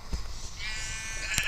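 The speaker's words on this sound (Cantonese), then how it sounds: "好多羊啊！" Sheep bleat faintly in the Minecraft video game, one drawn-out wavering bleat after a brief click, quiet and alone with no talk.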